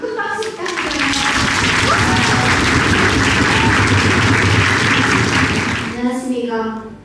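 A graduation ceremony crowd at a Korean language institute breaks into loud, dense applause that swells and holds for several seconds, with speech just before it starts and again as it dies away.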